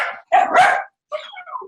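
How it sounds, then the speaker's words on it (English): A pet dog barks indoors at a home workspace: a cluster of sharp, loud barks, a brief pause, then a softer, yappier follow-up bark, with no one talking over it. "He will not stop barking for a minute."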